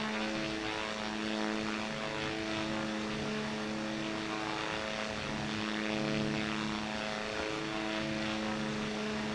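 An airplane propeller drones continuously in QWOP-style flight: a steady, loud buzzing engine tone with layered harmonics that waver slightly in pitch, with no other sounds.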